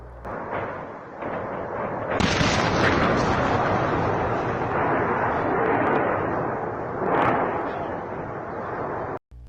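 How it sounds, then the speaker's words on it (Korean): Ammunition depot of Ukrainian forces blowing up in Otradokamianka, Kherson region: a loud, sustained roar of rumbling blasts and crackling secondary detonations that swells after two seconds and holds for several seconds before cutting off abruptly. "해당 지역이 맞는지는 모르겠지만 엄청난 폭발이 일어났습니다."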